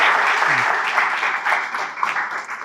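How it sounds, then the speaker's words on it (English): Audience applause welcoming a guest speaker, the CEO of The Hindu, at a media industry talk: steady, dense clapping from a room of people, fairly close and sustained throughout. "So welcome him with a big round of applause."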